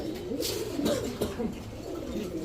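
Pigeons, including Pakistani teddy, racer and Giribaj birds, cooing softly in low, rolling murmurs with a few sharper sounds, close by and fairly quiet against background noise.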